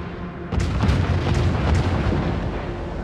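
The warship Dresden blowing up in World of Warships: a heavy booming blast lands after a brief lull, followed by a thick, rumbling roar of secondary bursts that keeps going loud to the end.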